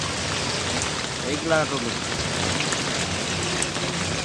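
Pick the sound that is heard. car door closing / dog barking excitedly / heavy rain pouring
heavy rain pouring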